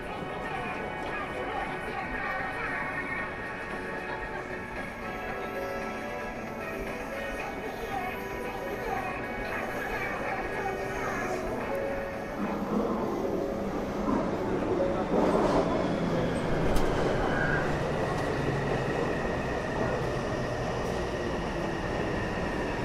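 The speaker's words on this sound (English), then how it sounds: "The train's coming, they're playing music. This is how they announce the train's coming." Metro train pulling into Taipei Main Station while arrival chime music plays, with a steady low rumble of the train building and swelling toward the end amid a busy platform hum and faint voices.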